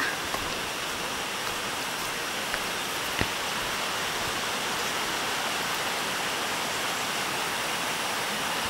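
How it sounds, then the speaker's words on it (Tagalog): Waterfall at Ben 10 Falls, a steady broadband rush of falling water, constant and fairly loud throughout with no talk. "Eto na daw yung Benten Falls"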